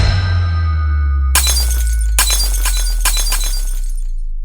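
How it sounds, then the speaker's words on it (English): Light bulb glass shattering as a dramatic audio-drama effect: a sudden loud crash of breaking glass followed by a few further bursts of tinkling shards over a deep, sustained rumbling drone, with no voices. "The light bulb shattered,"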